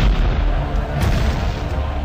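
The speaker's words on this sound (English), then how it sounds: "the Venetian general, Francisco Morosini, turned his cannon onto the Parthenon." Sustained cannon artillery fire in a documentary about the Venetian bombardment of the Parthenon on the Acropolis: a dense, rumbling barrage of deep booms that continues without a break for the whole two seconds.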